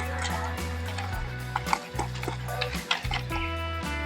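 A spoon scrapes and clinks against a bowl while spice paste is worked together with salt and oil for hilsa fish paturi, irregular close taps and knocks over a faint steady hum.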